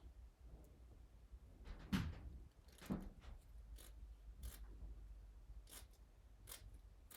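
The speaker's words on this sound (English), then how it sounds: "And we'll go ahead and cut this." Scissors snip through craft paper for a bee craft, a couple of clear cuts standing out near the start amid soft scattered rustling and handling noise, fairly quiet and close.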